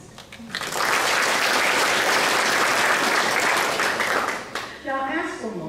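An audience at an 8th grade promotion ceremony breaks into loud, sustained applause for about four seconds, which then fades into a speaker's voice at a microphone.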